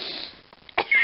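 A single sharp sneeze bursts out near the end after a quiet moment, following a brief hiss at the start.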